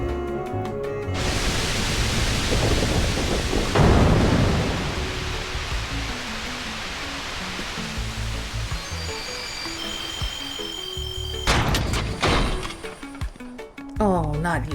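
A Thunder spell crackles in Kingdom Hearts, a loud noisy burst that fades into a long hissing rumble, followed by sharp chiming game effects near the end.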